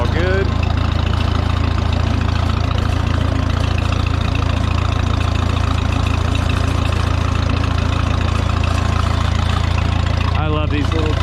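A Minneapolis Moline Jet Star tractor engine runs steadily with a loud Stanley muffler, a constant low rumble filling the whole stretch with no pauses, close and strong.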